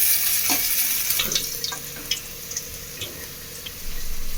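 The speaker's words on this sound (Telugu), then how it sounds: "బాగా ఫ్రై చేసుకోవాలి ఆనియన్." Onions and green chillies fry in a pan on low heat as part of a fish fry recipe, giving a close, continuous sizzle with scattered crackles and light stirring scrapes, and no talking.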